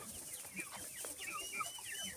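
Small chicks cheep in quick, high, overlapping peeps, soft and continuous against a faint background hiss.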